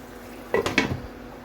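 A metal lid is set onto a cooking pot of katla fish curry, making two quick, close clanks a quarter second apart that ring briefly and fade over a quiet kitchen background.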